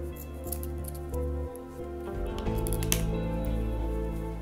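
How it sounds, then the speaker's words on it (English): Scissors trim the edge of a homemade fabric face mask, making small crisp snips close by over a quiet background hum. "then I'll take a scissors like this"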